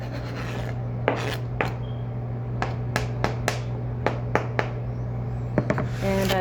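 Knife chopping cooked egg yolks on a board in a home kitchen, a series of crisp, uneven taps with short pauses, close and clear over a steady low background hum.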